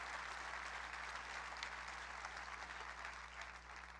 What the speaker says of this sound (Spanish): Dale fuerte ese aplauso al Rey.